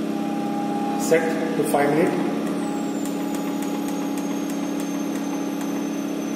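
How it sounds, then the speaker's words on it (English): A pin-on-disc wear testing machine in a lab runs its motor with a steady electric hum and tonal whine, spinning the disc under a 2 kg load; a brief voice comes in early, followed by faint rhythmic ticking. "Motor, the disc will rotate here."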